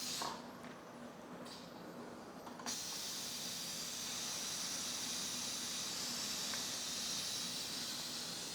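A pressure cooker vents steam in a continuous hiss, with a few brief interruptions early on before settling into a steady, unbroken release.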